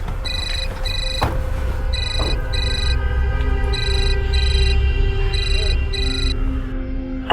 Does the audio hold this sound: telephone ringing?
yes